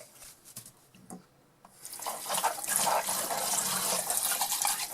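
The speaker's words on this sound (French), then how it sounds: "j'utilise, regardez un petit peu, le petit jet comme la douchette, ce qui fait que j'utilise beaucoup moins d'eau" Kitchen tap sprayer jetting water while dishes are washed, starting with a few faint clinks and rubs, then a steady hissing spray that runs to the end.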